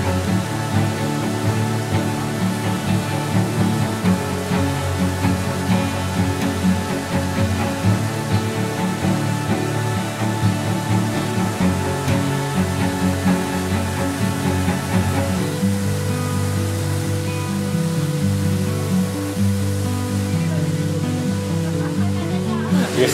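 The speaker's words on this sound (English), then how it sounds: "look at all the water just flowing off of the side of the house" Water pours steadily off the side of a soba restaurant building in Japan, a constant rushing splash close by, with a change in texture partway through.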